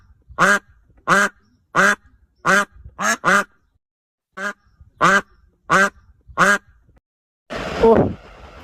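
A cartoon duck quacks about eleven times in a loud, evenly paced series of close, nasal calls separated by short silences, followed by a burst of rustling noise at the end.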